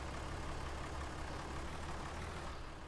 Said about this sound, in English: This is a loud tractor